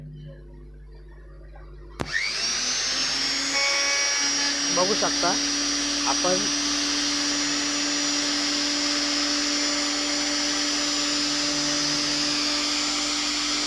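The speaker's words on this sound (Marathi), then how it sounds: "मिक्सर मी तुम्हाला लावून दाखवतोय" After a short quiet, a mixer grinder switches on with a sharp start and runs as a steady high whine during a repair demonstration, while someone talks briefly over it.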